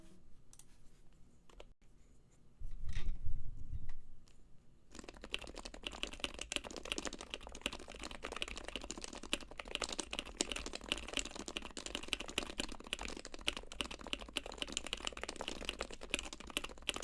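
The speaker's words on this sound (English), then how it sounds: "Okay, that's how the keyboard sounds. It sounds really nice." Typing on a Heavy Grail mechanical keyboard: a dense, steady run of close key clicks and clacks after a brief low thump, continuing without talk.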